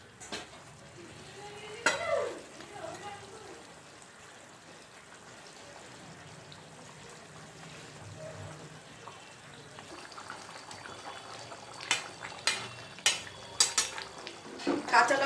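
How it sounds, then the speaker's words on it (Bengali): Rohu fish pieces going into a simmering cauliflower curry, a low bubbling broth with a clatter of utensils and a few knocks against the pot near the end. "ঝোল ফুটে গেছে, এবার আমি মাছগুলো দিয়ে দেব"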